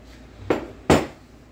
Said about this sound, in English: Then you can just give this axle a pull, long axle comes out,